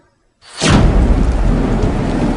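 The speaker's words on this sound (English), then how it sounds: "I saw a dark and stormy ocean." A thunderstorm over a dark, stormy ocean breaks in after a moment of silence, with a loud roll of thunder and then a steady roar of heavy rain.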